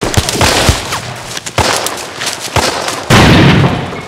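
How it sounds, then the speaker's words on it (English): Machine gun fire from a Band of Brothers war scene: loud, dense bursts of rapid shots and heavy blasts crackling close by, broken by brief gaps and ending in a sustained roaring barrage. "the machine gun isn't traditionally known for its single shot accuracy"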